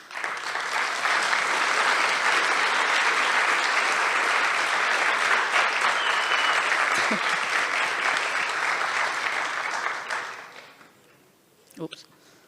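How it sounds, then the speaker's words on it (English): Conference audience at Voxxed Days Trieste 2022 applauding the team, a dense, loud, steady wash of clapping sustained for about ten seconds before fading out, with a brief voice at the end. "please give a big applause to the team"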